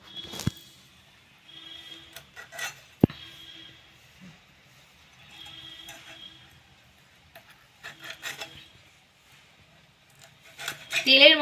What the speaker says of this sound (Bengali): এটা ফোল কেটে নিচ্ছি